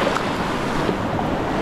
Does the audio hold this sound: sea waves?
yes